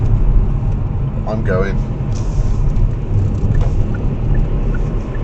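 A car's engine and road noise rumble loudly and continuously as it slows through a roundabout in third gear, with a brief spoken phrase over the steady drone.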